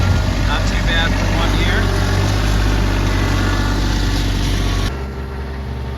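A tractor engine with 200 hours on it runs close and loud at a steady idle-like drone, dropping slightly in level near the end.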